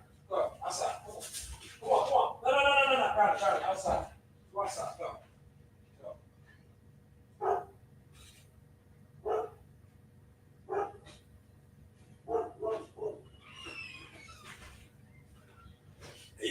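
A dog barks in short, separate bursts, with someone talking over the first few seconds and quieter stretches between the barks.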